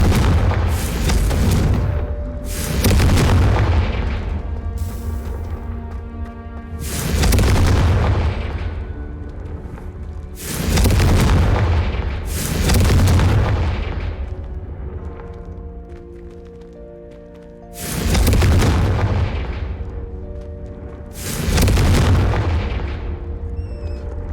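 Repeated heavy explosions from the Confringo fire spell in Hogwarts Legacy, about six deep booming blasts spaced a few seconds apart, each with a long rumbling decay, loud and close with no talking.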